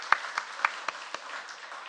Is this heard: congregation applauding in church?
yes